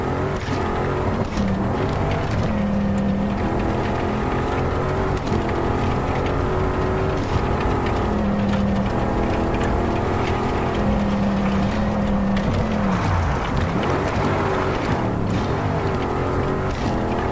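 A rally car in the Dakar 18 video game drives over a loose gravel track, its engine droning and shifting pitch through revs and gear changes, loud and continuous with gravel noise beneath.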